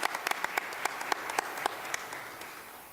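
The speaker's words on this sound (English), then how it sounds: "Let's give our reporters a round of applause." Scattered, modest applause at a Lutheran church rally, with distinct individual claps standing out over a softer wash of hands that gradually thins toward the end.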